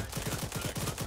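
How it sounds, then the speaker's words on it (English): Rapid automatic gunfire in the military video game Arma 3, a steady burst of evenly spaced shots that fills the whole moment at close range. "Where the hell are they firing from?"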